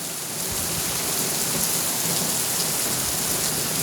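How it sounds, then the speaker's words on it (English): Heavy rain pours down steadily during a windy storm, a dense, continuous hiss of drops hitting surfaces close by, loud and unbroken with no voices. "Wow, it's raining hard."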